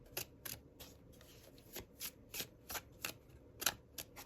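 Tarot cards are shuffled by hand in a series of crisp, close riffling snaps and flicks, roughly a dozen quick bursts at an uneven rhythm over a quiet room.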